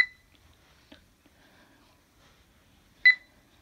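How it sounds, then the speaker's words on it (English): A BrailleNote Apex notetaker emits two short, sharp electronic beeps about three seconds apart while backing up files, in a quiet room with faint clicks between. "The BrailleNote will beep until it is done."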